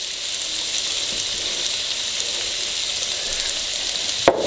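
Andouille sausage sears in oil in a hot pan, giving a steady, dense sizzle and crackle throughout, with one sharp clack of the pan or utensil near the end.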